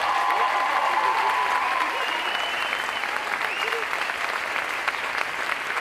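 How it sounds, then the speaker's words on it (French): An audience at a dance show applauds loudly and continuously, a dense wash of clapping with some cheering and crowd voices mixed in. "Faites du bruit pour Elodie, s'il vous plaît."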